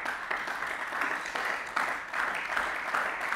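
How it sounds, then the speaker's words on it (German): Sustained applause from members of a state parliament during a Landtag plenary session, a steady dense wash of many hands clapping at a moderate distance with no voices on top. "Applaus"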